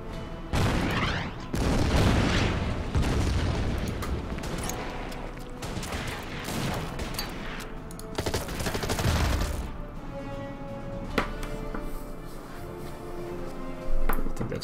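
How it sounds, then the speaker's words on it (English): Gunfire aimed at incoming infantry in the strategy video game Order of Battle: dense bursts of shots and booming blasts, heaviest in the first ten seconds before thinning to scattered reports and a final thump. "Just fire on the incoming infantry."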